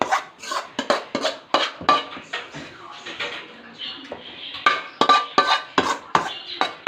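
A thick besan barfi mixture being scraped with a spoon in a metal pot, giving rapid repeated clanks and scrapes in an uneven rhythm, close and fairly loud.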